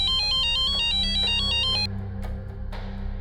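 A phone rings for an incoming video call, a loud repeating electronic ringtone melody that plays for a couple of seconds and then cuts off, leaving quiet background.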